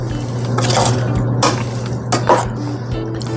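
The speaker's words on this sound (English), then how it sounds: "Then I add that pasta to the sauce." Al dente penne pasta being added to sauce in a pan, with close wet squishing and soft clattering against the pan over a steady low hum, and no talk.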